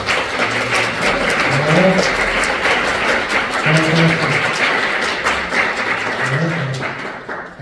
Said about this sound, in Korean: 우리 한번 일어나 주시면 박수로 우리 환영하겠습니다